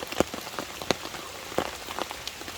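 Rain falling on a tent at a wet solo campsite, a steady patter with scattered sharper drops striking the fabric at irregular intervals, close and fairly quiet with no talking.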